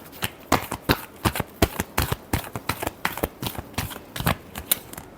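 Tarot cards are shuffled in a final shuffle, a rapid run of crisp riffling slaps and flutters close by, irregular but continuous for several seconds.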